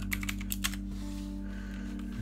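Typing on a computer keyboard, a quick burst of light clicking keystrokes at the start that then stops, close up over a steady low electrical hum.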